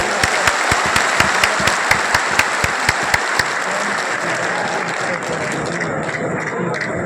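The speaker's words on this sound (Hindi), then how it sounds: "जोर से ताली बजाइए" A political rally crowd at a Jan Suraaj gathering claps loudly and rhythmically for about three and a half seconds. The clapping then gives way to a softer, continuous crowd murmur.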